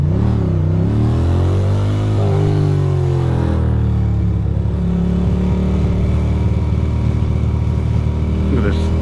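A Ducati Monster 620 motorcycle rides through traffic, its engine revving up and settling into a loud, steady drone close by, with wind noise throughout.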